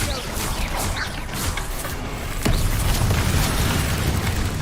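Bombarda blast spell going off in Hogwarts Legacy, a dense booming explosion with a sharp crack partway through, loud and sustained amid rumbling battle noise.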